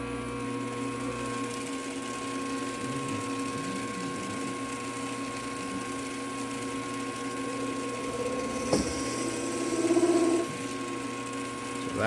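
A Mechanica Cortini lathe faces a part at 1000 RPM with a steady mechanical whine and hum. A sharp clack comes near the end, followed by a brief louder whir, with no talking.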